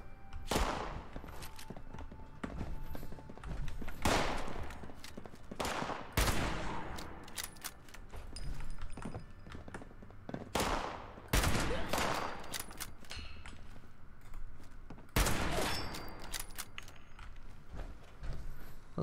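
Bursts of gunfire in the video game Fallout 76, repeated sharp shots and short volleys spaced irregularly, loud and close, with quieter mechanical clicks and movement sounds between them.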